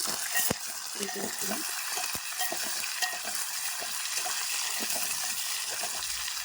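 Chirraku greens and broad beans fry with onions in a pan, giving a steady, close sizzle with scattered clicks and scrapes from stirring, and no one speaking.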